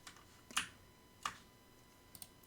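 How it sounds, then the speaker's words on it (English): Typing on a computer keyboard into a search bar, a few sparse, crisp key clicks spaced apart in a quiet room. "go ahead and type into the search bar right here"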